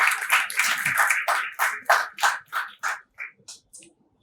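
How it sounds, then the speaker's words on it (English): A round of applause at a school leadership panel event: a brief burst of hand clapping from a small group that thins into a few scattered claps and fades out. "I do a round of applause, yes."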